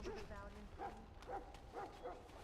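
A Mabari hound in Dragon Age: Origins gives several short barks and yips, spaced about half a second apart, fairly faint under background game ambience.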